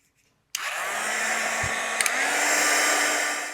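A hair dryer switches on abruptly and blows a steady, loud whooshing hum to dry shimmer paste on a stencil, with a couple of brief clicks midway and no talking.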